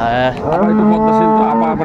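A dairy cow at a cattle market in Dinajpur lets out a single loud, drawn-out moo, close by, with no one speaking.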